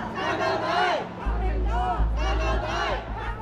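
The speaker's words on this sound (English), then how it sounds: "crowds are starting to gather outside a police station in Mong Kok" Protest crowd gathering outside a police station in Mong Kok, Hong Kong: loud massed voices shouting and chanting in rising waves, close by, with a low rumble underneath.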